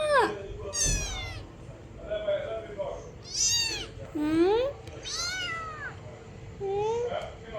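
Several kittens meow in quick succession, overlapping high squeaky cries rising and falling, with faint background noise throughout.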